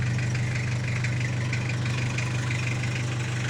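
A Toyota Hilux Mighty-X pickup engine idling smoothly, a steady low rumble with an even mechanical hum, close and continuous with no voices.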